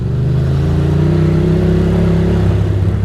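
Steady mid-range engine drone from an older Ducati motorcycle cruising along, a continuous hum with slight revving variation and mechanical clatter, loud and close throughout with no talking.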